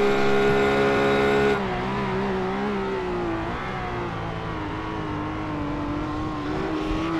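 A RUF race car driving at Interlagos in the iRacing video game, its engine giving a loud, steady, buzzing note that drops sharply after a quick gear change early on, then holds and wavers as the car takes the corners.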